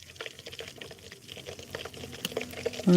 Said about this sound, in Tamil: அடுத்த மீனை பொறிச்சு பார்ப்போம்